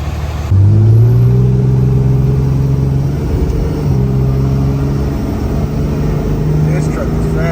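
A Dodge Cummins pickup fitted with a BoOST CTS3 Edge tuner idles steadily after starting up, a low diesel drone that holds level for several seconds with a slight shift in pitch partway through, with no voices over it.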